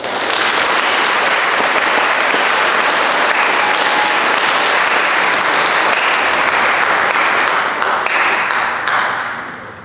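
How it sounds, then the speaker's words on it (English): Loud, dense applause from a crowd at a high school military signing ceremony fills the space without a break, many hands clapping together before tapering off in the final second. "Everybody give a round of applause."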